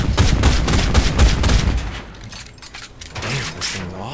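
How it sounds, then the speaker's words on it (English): A self-propelled anti-aircraft gun fires in War Thunder, rapid rattling bursts of cannon fire, loud and close, fading into scattered distant thuds, with a voice talking faintly over it. "Before I shoot it at a damn Panzer II."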